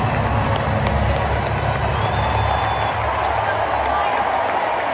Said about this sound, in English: They're cheering for Trump.